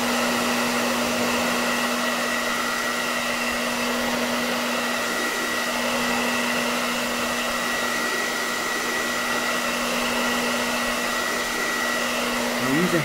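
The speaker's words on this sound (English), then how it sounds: "A hairdryer" A hair dryer blows continuously at a steady, loud pitch, heating a Surface Book laptop screen, an unbroken whirring hiss with no pauses.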